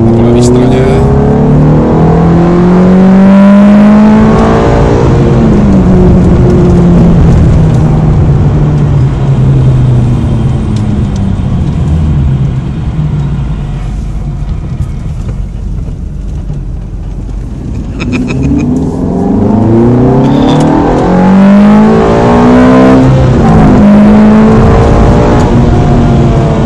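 Ferrari F430 engine accelerating while driving, rising and falling in repeated revving sweeps through the gears, loud and close from inside the car, easing off midway before climbing again, with people talking over it.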